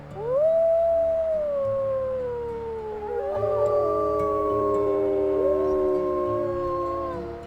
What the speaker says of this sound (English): We'll do a howl.